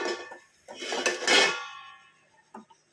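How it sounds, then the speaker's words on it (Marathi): A metal lid set down on a pan of ridge gourd vegetable over low heat, a short ringing clatter followed by a fading ring and one small final tap. "10 मिनिटासाठी आपण हे छान असं झाकण लावून ठेवणार आहोत"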